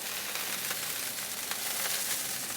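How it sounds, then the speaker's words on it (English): Loud, steady sizzling of chicken cooking hot and fast in a reverse flow smoker, a continuous crackling hiss with no pauses. "These are just sizzling away up front, trying to get that skin nice and crispy"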